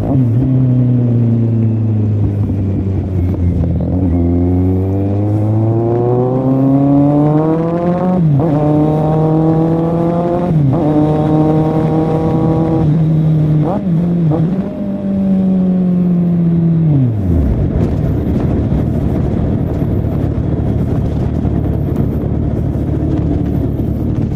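A Kawasaki Z800 motorcycle engine revs up repeatedly, pitch climbing and dropping through several loud blips, held close by, before cutting off to a low idle rumble.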